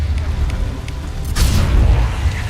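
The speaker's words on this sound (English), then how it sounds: "Concussive shot ready." A concussive shot from Mass Effect Legendary Edition lands as a deep boom that swells midway and rolls on as a low rumble, with faint clicks earlier in the fight.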